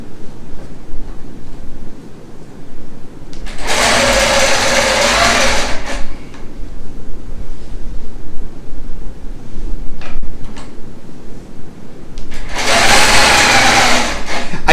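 A long arm quilting machine on a frame sews the facing onto a small 40 by 40 quilt in two loud, steady bursts of stitching a few seconds long, set against a constant background hum.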